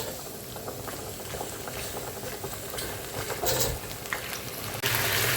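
Leftover vegetable chochchori bubbling as it reheats in a pot, a continuous close boil with soft popping and patter that grows louder near the end, no voices.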